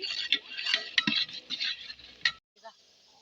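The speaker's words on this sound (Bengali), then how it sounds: "এখানে পেঁয়াজটাকে ভাজা ভাজা করে নিচ্ছি" Onions fry in oil in a pan on a makeshift stove, giving a close, bright hissing sizzle broken by the clinks and scrapes of a stirring utensil, before cutting out and returning fainter.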